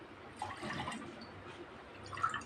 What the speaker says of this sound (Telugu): ఇందులో 2 గ్లాసులు పాలు పోసుకొని వేడి చేయాలి